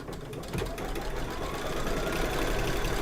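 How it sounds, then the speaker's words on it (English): A Brother Scan N Cut 325 setup's sewing machine stitches down a fabric bear appliqué, a fast steady mechanical whirring hum, close and continuous. "Now we're going to stitch it down."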